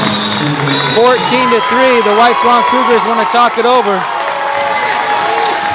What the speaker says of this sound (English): the crowd noise that you hear is coming from the Granger Spartans